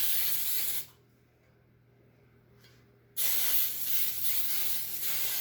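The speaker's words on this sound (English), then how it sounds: "So I'm just going to spray the bottom of this pan." Cooking spray mixed with flour hisses from an aerosol can onto the bottom of a baking pan in two loud, steady bursts, the first under a second long and the second about two seconds, separated by quiet.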